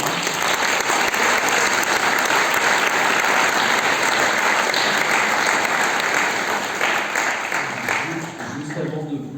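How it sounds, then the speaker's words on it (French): Sustained, loud applause from the audience at a brain institute round table, honouring its speakers, a thick steady roar of many hands that thins and fades near the end as a voice begins. "Je propose d'applaudir nos intervenants."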